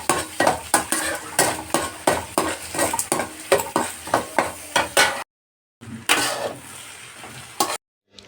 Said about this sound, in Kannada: ಟೊಮೊಟೊ ರೈಸ್ ಮಾಡೋಣ ಅಂತ ಬೇಗ ಟೊಮೊಟೊ ರೈಸ್ ಮಾಡ್ಕೊತಾ ಇದ್ದೀನಿ